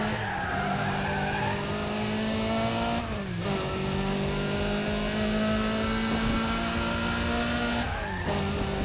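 A race car in Need for Speed: Pro Street roars flat out with a steady high engine drone, shifting pitch with gear changes and accompanied by tire squeal, loud and continuous throughout.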